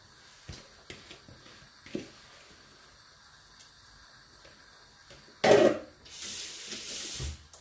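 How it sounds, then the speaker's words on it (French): Blended vegetables are tipped into about 1.5 litres of water in a pot for okra sauce, first a few faint clinks and taps, then a sudden loud pouring splash followed by a steady rushing pour near the end. "À cette eau, je vais ajouter les légumes que j'ai mixés au préalable."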